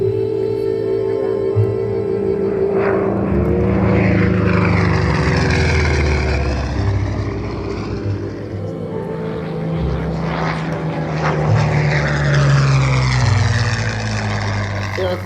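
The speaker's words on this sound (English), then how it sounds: "There's the ME-109 being flown by Doug Griffin." A Messerschmitt Bf 109 fighter flies at the 2024 Bremerton air show, its propeller engine droning loud and rising and falling as it makes passes, under an announcer's voice.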